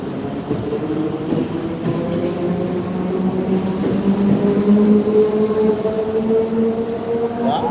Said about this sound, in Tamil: ஒரு ட்ரெயின் வருது